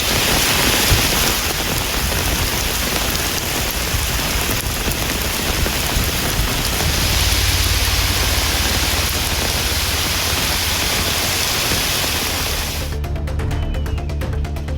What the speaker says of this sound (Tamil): மாநகராட்சி பகுதிகளில் அரை மணி நேரத்திற்கு மேலாக கனமழை பெய்ததால் வெப்பம் தணிந்து குளிர்ச்சியான சூழல் நிலவியது